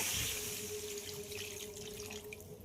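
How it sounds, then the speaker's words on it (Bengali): Water is poured into a pan of fried fish curry masala, a steady splashing, running stream heard close by with no talking, tapering slightly toward the end. "এবার এতে পরিমাণ মতো জল দিয়ে দেব।"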